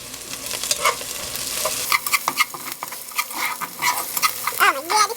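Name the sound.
ginger and garlic frying and being stirred in a pan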